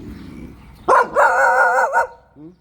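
A dog at a house-building site in Sisaket, Thailand, lets out a loud, close, drawn-out bark that stretches into a wavering howl-like cry lasting about a second, followed by a brief softer yelp.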